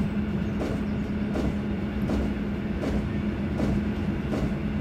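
EN57 electric train in a MaSzyna simulator rolling toward a station, with a steady hum and a regular clickety-clack of wheels over rail joints at a moderate level.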